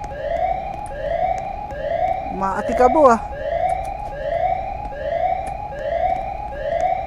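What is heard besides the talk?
police car sirens in a Roblox video game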